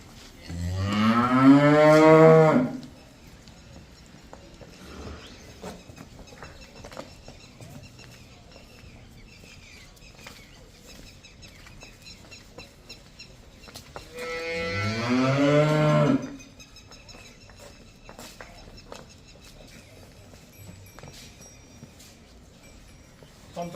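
Jersey cross dairy cows on a farm give two loud, drawn-out moos several seconds apart, each lasting a couple of seconds, with quieter farmyard background between them.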